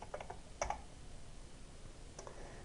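A number being keyed in on a computer keyboard in a drawing program: a few quick, soft clicks near the start, another cluster just after half a second and a lone tap near the end, with quiet pauses between.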